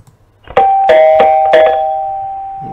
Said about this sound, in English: a bit of a doorbell